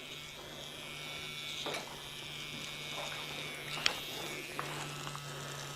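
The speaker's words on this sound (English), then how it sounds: "We are going to use the heated hot razor to do this cut, to do this facial fringing." A heated hot razor buzzes steadily while cutting a face-framing fringe in a haircut, with a few faint snips and brushes against the hair and no speech.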